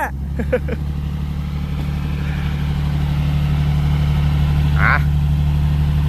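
A Kubota TS115 farm tractor engine, naturally aspirated with no turbo, idles with a steady low rumble. Brief voices cut in near the start and again shortly before the end.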